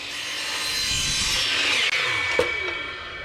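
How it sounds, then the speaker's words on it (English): A handsaw cuts through standard 1.5-inch PVC pipe during a hall bathroom remodel, a steady raspy back-and-forth sawing close by that ends with a short snap as the piece drops off, with no talk. "And now let's go to the saw and cut that off."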